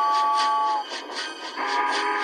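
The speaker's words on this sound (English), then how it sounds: "Whose whistle was that?" A steam locomotive whistle from an animated railway show sounds in clear tones, a long steady note followed by a shorter second blast after a brief dip, with rhythmic chuffing pulses underneath.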